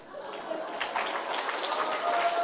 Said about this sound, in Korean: 여러분이 박수를 치셨으니까